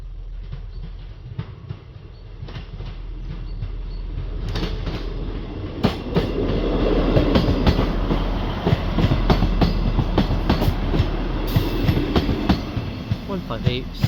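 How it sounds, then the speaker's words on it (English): A Class 158 diesel train passes through Dingwall, rumbling in from a distance and growing louder with rhythmic wheel clatter over the rails, heard outdoors with light background noise. "Coming round the bend should be 158 to Wick"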